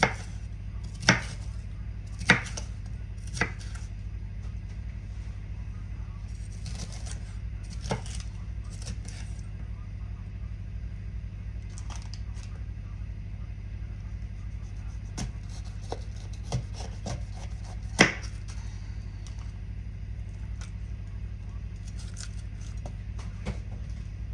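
A knife chops peppers and onions on a board in irregular, sharp taps, some in quick clusters and others spaced seconds apart, over a steady low background hum.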